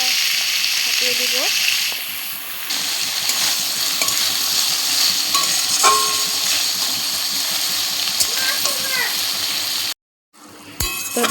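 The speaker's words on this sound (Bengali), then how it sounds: "চিংড়ি মাছগুলো আগে দিয়ে দিলাম। এখন ভাজা ভাজা হতে থাক।" Shrimp frying in a pan for a home-cooked Bengali fish curry, giving a steady close hiss and crackle of oil throughout, with faint small clicks and a brief dropout near the end.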